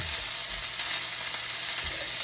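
Wild game burgers fry in a pan, giving a constant dense sizzle with faint crackles, close and alone.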